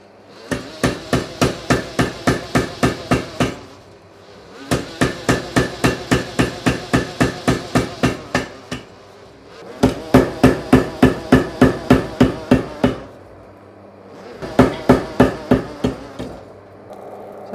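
Blacksmith hand-hammering hot metal along the ridges of an octagon, fast rhythmic ringing blows in four bursts of about a dozen strikes each, with short pauses between.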